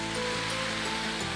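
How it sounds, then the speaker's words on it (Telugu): Water pours into a pot of vegetable and lentil soup as a continuous, loud, rushing splash that runs for the whole moment before trailing off slightly. "Now time to add water."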